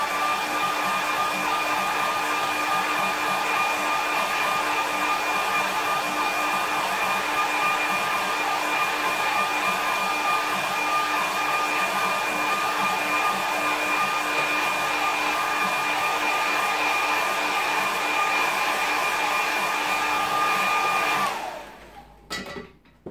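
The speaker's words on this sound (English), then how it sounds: "just give that a quick dry." A hair dryer blows over a watercolour landscape painting, a loud, steady, close whine with a constant tone for about twenty seconds before it switches off and spins down.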